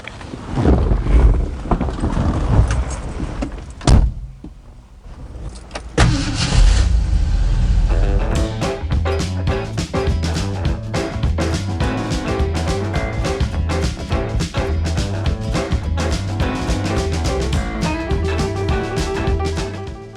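A 1955 Ford Thunderbird resto-mod with a heavy body starts off and drives away, its engine rumbling loud and steady with wind buffeting the microphone near the start.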